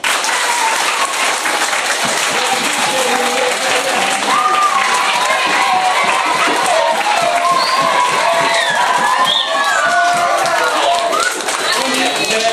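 A crowd claps and cheers at the launch of activities at a refugee school in Yaoundé, Cameroon. The clapping is dense and continuous throughout, with shouts and voices mixed in.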